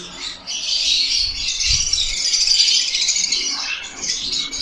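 Birds in a breeding aviary squawk and chirp in a dense, continuous chorus, loud and close, with a brief flutter of wings near the start and no talking.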